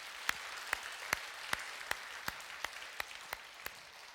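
A church congregation gives applause in slow, evenly spaced single claps, about ten sharp hand claps in a row over a faint room background.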